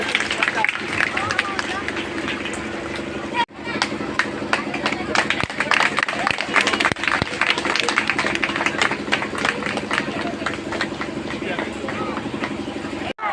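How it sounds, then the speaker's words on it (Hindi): A crowd at an outdoor political rally in Kabirchak panchayat, Darbhanga, Bihar, claps for a local candidate. The sustained, steady applause fills the whole stretch and is mixed with a loud amplified voice speaking over it. "कहीं बिल्टू जी के ताली तो बजाइए"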